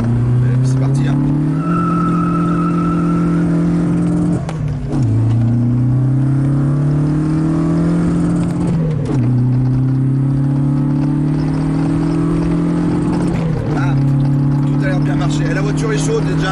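A Volkswagen Golf 2 cruises at speed on the German Autobahn, its engine droning steadily with pitch climbing through gears and dipping at each shift, loud and close from inside the cabin, with someone talking over it.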